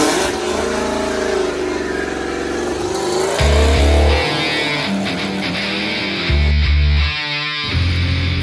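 Drag race cars at a racetrack in Davao City, diesel and gas machines, roaring loudly with repeated bursts of high revving and heavy low engine thunder rising and falling across several passes.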